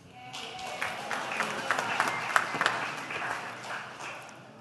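A congregation at an Erev Rosh Hashanah gathering gives a short burst of moderate applause, with scattered claps rising and fading over a few seconds.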